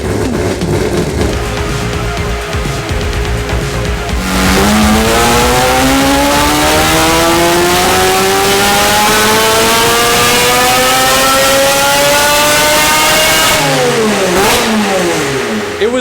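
A Toyota Supra engine fitted with a shorter intake and built for high RPM revs up hard in one long, loud rising sweep that holds near the top, then drops and climbs again. It is close and clear, with no talking.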